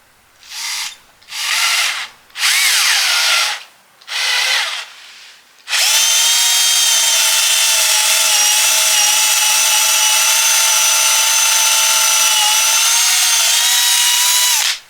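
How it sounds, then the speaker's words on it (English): A power drill with an extra long bit bores through wooden table legs, four short loud whirring bursts followed by a long continuous high-pitched drilling run, close and with no speech. "To get the hole all the way through the legs, I needed an extra long drill bit."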